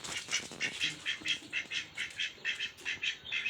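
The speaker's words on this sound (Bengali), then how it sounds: "একটা হচ্ছে পুরুষ হাঁস একটা হচ্ছে মহিলা হাঁস" Ducks quack in a quick, steady series of short nasal calls, fairly close, with no talking.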